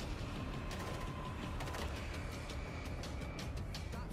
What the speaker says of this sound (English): Stationary machine gun.